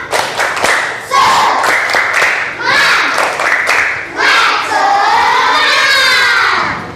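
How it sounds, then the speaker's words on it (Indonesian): A primary school class in Indonesia does a rhythmic spirit clap, bursts of group clapping alternating with children's chanted voices and shouts, loud and close in a classroom. "Coba kita tepuk semangat dulu."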